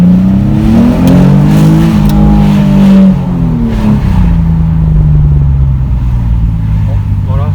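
A Nissan with a GT character revs loudly nearby, the engine note sweeping up and down in long rising and falling pulls, with voices briefly audible under it.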